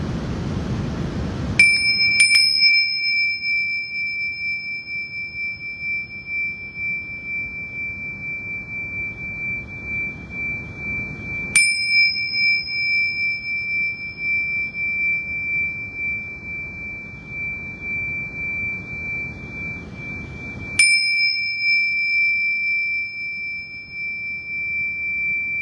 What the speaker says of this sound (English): let's just ring the bells 3 times